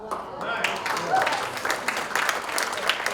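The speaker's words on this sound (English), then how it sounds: "let's give a hand of applause" Applause from a small crowd at a Lions Club installation dinner, uneven clapping from a modest group, fairly close, with a voice speaking over it.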